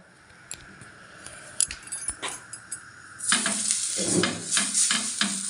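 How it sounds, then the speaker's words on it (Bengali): Oil being rubbed over a hot tava griddle for making pithas, with scattered light scrapes and taps that give way to a louder, steady sizzle and scraping rubs in the second half, close by and with no talk. "এবার আমি এই তাওয়াটার মধ্যে তেল মাখিয়ে নেব।"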